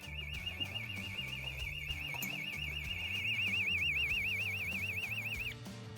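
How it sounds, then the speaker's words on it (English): An intruder alarm siren from a 25-year-old alarm box sounds nearby with a warbling tone that rises and falls quickly, over a low pulsing hum and some clatter, cutting off just before the end. "I'm going to go outside and shut the siren up in a sec because it's going to start getting bonkers"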